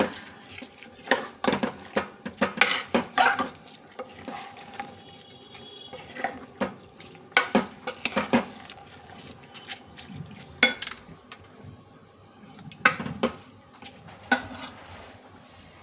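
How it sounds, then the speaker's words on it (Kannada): Basmati rice being stirred in a pot with masala for egg biryani, giving repeated scraping and clinking bursts of utensil against metal in uneven rhythm, close and fairly clear, with no talking. "ಎಲ್ಲ ತಿರ್ಸ್ಕೊಂಬಿಡೋಣ"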